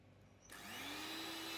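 After a brief quiet moment, an electric mixer switches on and whirs steadily as it beats softened butter with a pinch of salt for a lemon cake.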